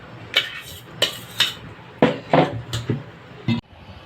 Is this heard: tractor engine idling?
no